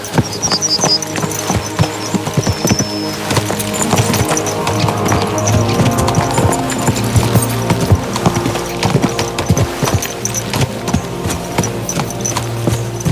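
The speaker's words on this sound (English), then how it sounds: "Let's really spur these horses on, eh?" Horses gallop in the medieval video game Kingdom Come: Deliverance II, loud close hoofbeats in a fast steady clip-clop rhythm that continues throughout, with no talk over them.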